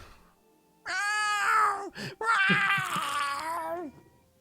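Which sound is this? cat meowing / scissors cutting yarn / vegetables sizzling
cat meowing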